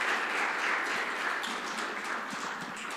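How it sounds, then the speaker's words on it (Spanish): Church congregation applauding a ministry during a Spanish-language service, a steady wash of clapping filling the room for about three seconds with no talk over it. "Démosle un fuerte aplauso a ese ministerio."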